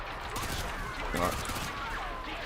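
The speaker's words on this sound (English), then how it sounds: "I'm just being shot from around the corner" Gunfire in Call of Duty: Modern Warfare 2 (2009), a steady clatter of shots fired from around a corner that blends with a constant busy game din, with a louder burst midway.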